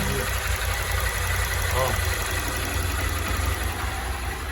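A Honda Start 160 motorcycle engine idles at its first start of the day with an abnormal mechanical noise, a loud, constant running drone close to the microphone, with a brief voice.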